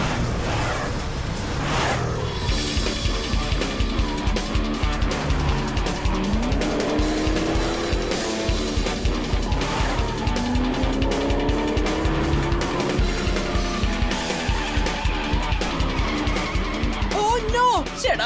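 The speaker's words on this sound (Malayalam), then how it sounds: "ടെമ്പോണന്റെ കാർ സ്റ്റാർട്ട് ആയെന്നാ തോന്നുന്നേ" A cartoon race car starts and races, engine revving loudly with squealing tires and skids throughout, backed by music and excited voices.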